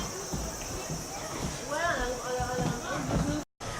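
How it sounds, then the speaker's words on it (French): Cicadas sing in a steady high-pitched drone along a temple street in Japan, continuing under nearby chatter and voices for the whole stretch before cutting out briefly near the end. "il y a les cigales hein"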